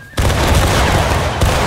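A massed musket volley in a line-battle video game, a sudden loud crackling roar of many shots that fills the clip, with a second burst of fire swelling near the end.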